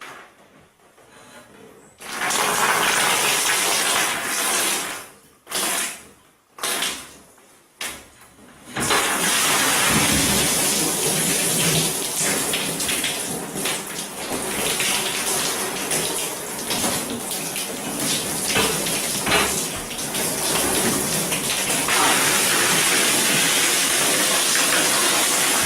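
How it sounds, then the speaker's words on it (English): Heavy rain pounding on a shelter roof as a storm rolls in, a dense loud roar of water that stutters briefly at first, then settles into a steady unbroken downpour. "there's a storm coming in"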